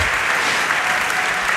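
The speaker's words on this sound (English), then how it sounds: "a big round of applause there for Max as he finishes his last solve of the competition" Enthusiastic audience applause at the Rubik's WCA World Championship for Max Park finishing his last cube solve, a dense, loud, continuous patter of many clapping hands.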